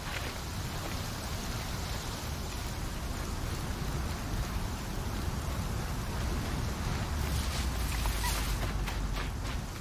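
Steady rain pours across a Horizon Zero Dawn game scene, a dense, even hiss that holds at the same loudness throughout with a slight rise in brighter spatter near the end.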